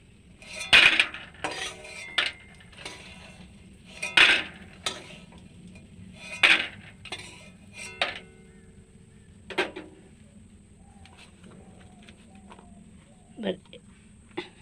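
Fried lentil dumplings are scooped out of a wok of hot oil, giving a series of sharp metal clinks and scrapes of a utensil against the pan, spaced a few seconds apart and fading to lighter taps near the end.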